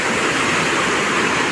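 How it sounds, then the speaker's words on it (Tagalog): Rushing water of a flooded river that has overtopped its banks, a loud, dense and continuous roar that fills the whole short stretch without any voices. "napakalaki ng tubig mga idol. Talagang lumampas siya doon sa ano ng pinakang ilog."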